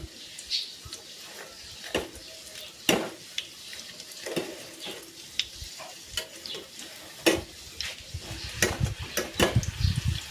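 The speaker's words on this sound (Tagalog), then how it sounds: "Nagpainit na ako ng mantika. Magpiprito na ako." Cheesy banana rolls frying in hot oil, a steady crackling sizzle with repeated sharp pops and spatters, close and fairly loud, with no talking over it.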